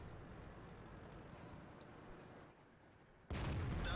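A T29 tank in World of Tanks fires its gun, a sudden loud, sustained blast that breaks in near the end after a steady low rumble of battle ambience.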